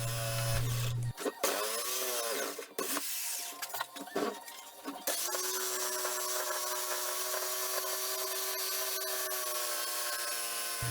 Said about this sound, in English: I did struggle a bit getting the curves with this jigsaw